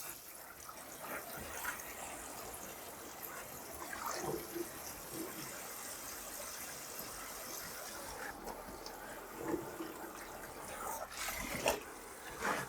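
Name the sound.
tap water running to refill for rinsing laundry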